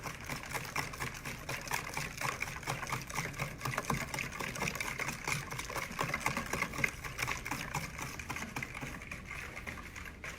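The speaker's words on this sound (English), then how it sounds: "Get out my handy dandy whisk" A wire whisk rapidly stirs instant pudding mix in a bowl, giving a steady, dense rattling scrape that continues without pause, close and moderately loud, with no talking.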